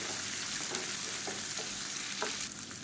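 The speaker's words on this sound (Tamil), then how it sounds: "இது எல்லாத்தையும் நல்லா வதக்கணும்." Onion and small garlic cloves sautéing in a pan, a continuous close sizzle and fry with faint stirring scrapes and small pops, no one speaking.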